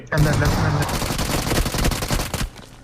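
Rapid gunfire from the mobile battle royale game BGMI crackles in dense bursts for over two seconds, loud and close, with a voice briefly heard near the start.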